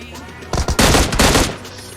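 Automatic gunfire in a shooting video game, a close, loud rapid burst of shots with a few separate cracks leading in, lasting about a second before fading, no voices.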